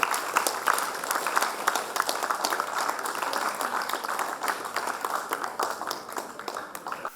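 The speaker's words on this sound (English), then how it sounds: "A big round of applause to you." Children in the audience at a book session in Chennai applaud together for several seconds. The clapping is steady and crowded, then thins out slightly toward the end.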